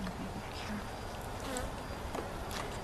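Honey bees buzz around a hive in a yard, a faint, continuous hum with individual insects droning past up close now and then.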